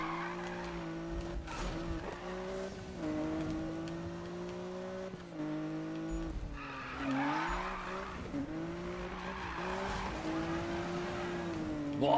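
Tires squealing as a car slides sideways under nitro boost in Need for Speed, a long continuous screech with the engine droning beneath, shifting pitch through the drift and rising again in a second slide.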